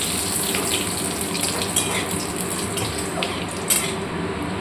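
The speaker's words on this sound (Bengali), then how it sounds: "এবার খানিক পাঁচফোড়ন দিয়ে দেবো, এরপর একটা শুকনো লঙ্কা ও একটা তেজপাতা দিয়ে দেবো।" Panch phoron spices frying in hot oil, a steady hiss and crackle of sizzling with a few brief pops, continuous and fairly loud, no talking.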